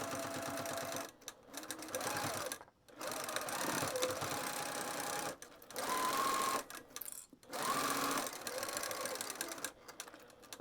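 Sewing machine back stitching across a seam on a beginner's pouch, running in several bursts of rapid whirring stitches separated by brief pauses, loud and close.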